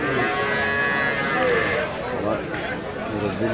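Cattle lowing in drawn-out moos, fairly close, with people talking over and around them the whole time, at a cattle market in Sylhet.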